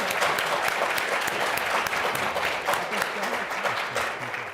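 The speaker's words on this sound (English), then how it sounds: "Please hold your applause." An audience at a GOP Senate primary debate applauds in a sustained wave of dense clapping that carries across the whole stretch, loud and close, with a voice faintly underneath.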